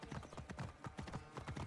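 Horse hooves clip-clop in a quick, even rhythm as a horse trots in Assassin's Creed Origins, quiet and close, with faint voices underneath.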